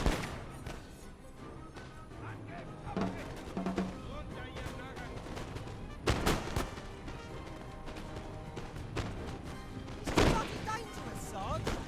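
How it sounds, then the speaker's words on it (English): Muskets fire during a battle in a strategy video game set around the pyramids in Egypt, sounding as scattered cracks and dull booms of varying distance. Someone talks over much of the gunfire. "I love the smoke hanging in the air, the sound of the muskets going off."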